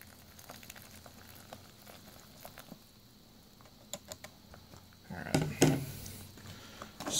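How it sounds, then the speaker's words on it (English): Hot water poured into a freeze-dried lasagna pouch, a soft splashing burst late in the quiet clip after scattered light clicks and handling noises, close by. "let's very carefully pour this into the bag"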